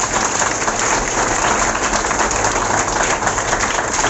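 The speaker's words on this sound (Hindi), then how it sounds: "उनके लिए जोरदार तालियां दें।" Loud, dense applause from a large audience at a business meeting hall in Varanasi, a continuous roaring wash of many hands clapping at once, steady and close throughout.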